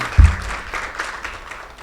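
Audience at a school community event for a drug-free coalition claps in a brief, dense patter of applause, with one louder thump near the start.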